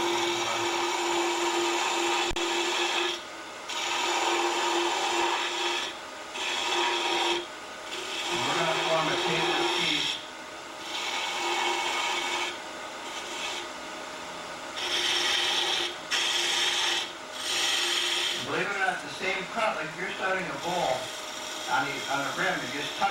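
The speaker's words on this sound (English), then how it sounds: "Try your bowl gouge for something you never did with a piece of wood." A bowl gouge cuts into a spinning piece of wood on a lathe, giving a steady rasping, scraping hiss in repeated passes broken by short pauses, close and fairly loud.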